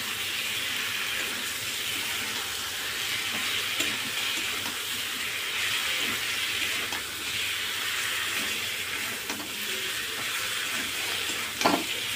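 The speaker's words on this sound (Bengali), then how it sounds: "আমি ভাজা যে ফুলকপি আর আলুটা ওর মধ্যে ভালো করে দিয়ে কষিয়ে নেব" Fried cauliflower and potato being stir-fried in masala in a pan, with a constant close sizzle, soft scraping of stirring throughout and a sharper clink near the end, without any talking.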